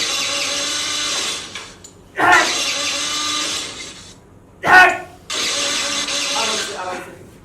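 An old scooter with a rusted engine is being started without success: loud, harsh, whirring cranking runs in long stretches, broken by short gaps, with voices talking in between.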